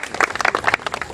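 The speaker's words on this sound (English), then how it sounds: "You can clap." Wedding guests clapping at a ceremony after a reading, a small crowd's uneven, close hand claps with distinct individual slaps, moderately loud and without talk.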